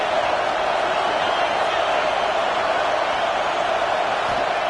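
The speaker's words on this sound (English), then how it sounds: "Decibels rising as the crowd gets behind this defense on third down." A college football stadium crowd roars on a third down, a dense, loud, continuous wash of cheering and noise that holds steady without a break.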